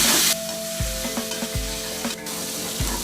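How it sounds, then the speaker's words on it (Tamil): A paste of ground mint, green chili, ginger and garlic sizzles loudly in a hot pan. A spoon stirs it with repeated scraping strokes over a steady close frying hiss. "இதையும் சேர்த்து நல்லா பச்சை வாடை போகிற வரைக்கும் வதக்கிற போகிறோம்."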